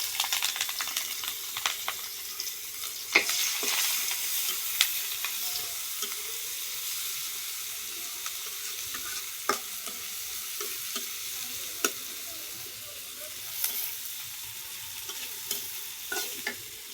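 Onions sizzle in oil in a pan on a clay stove while being stirred, a soft steady frying hiss broken by repeated sharp scrapes and clicks of the spoon, with no talk.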